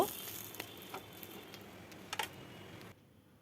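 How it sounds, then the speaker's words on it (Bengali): Raw jackfruit paturi parcels fry in a pan with a soft, continuous sizzle, broken by a few light taps and scrapes from a utensil before the sound drops away quietly at the end. "এইভাবে আমি সমস্ত পাতুরিগুলো ভেজে তুলে নেব"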